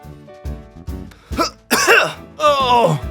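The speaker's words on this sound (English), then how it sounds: "Debari was coughing in his kindergarten room" A cartoon dinosaur with a cold gives a few throat-clearing coughs, each louder than the one before, in a kindergarten room. A strained voiced cough is heard near the end.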